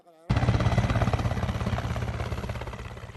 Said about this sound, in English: Another helicopter makes its way back from the city to one of dozens of checkpoints.